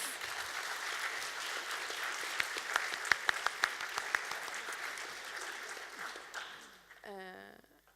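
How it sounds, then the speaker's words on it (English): Conference audience applause during a panel discussion, sustained broad clapping for about six seconds with a few sharper claps standing out, fading as a voice begins speaking near the end. "I think we will have an applaud in the middle"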